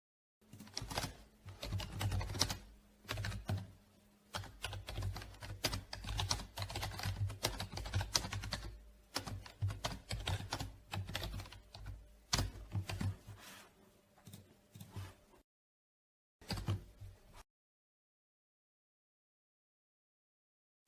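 Computer keyboard typing CSS code, a dense, continuous clatter of close keystrokes that runs for about fifteen seconds, then a short final burst before silence, with no talking.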